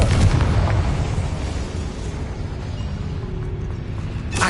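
A Confringo spell blasts in Hogwarts Legacy, a heavy explosive boom at the start that rumbles and fades into a low roar over several seconds, loud and close, with no talk.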